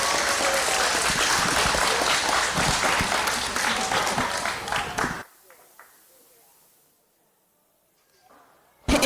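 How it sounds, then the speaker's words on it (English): Warm applause from the audience at a 4-H fair cat show honouring a 10-year member, steady clapping for about five seconds that fades out quickly, followed by near silence and a short burst at the very end. "give a warm round of applause to our 10-year member tonight"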